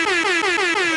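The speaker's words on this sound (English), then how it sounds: "deserves the air horn for sure" An air horn sound effect blasts in one continuous loud, brassy tone with a slightly wavering pulse, heard alone for about a second.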